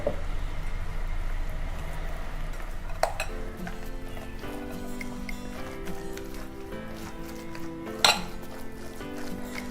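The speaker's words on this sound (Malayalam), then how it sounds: "ഇതിലേക്ക് നമുക്ക് മയോണൈസ് ചേർത്തൊന്ന് ഇളക്കിയെടുക്കണം." Chicken mixture stirred with mayonnaise in a bowl for a sandwich filling, with a spoon clinking and scraping against the bowl in an uneven run of close metallic taps over a low background hum.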